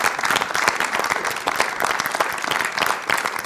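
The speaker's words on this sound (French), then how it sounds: "je voudrais que vous vous applaudissiez mutuellement" An audience at a Ch'ti TaidX 2021 talk applauds one another with thick, continuous clapping from many hands, loud and even throughout the short stretch.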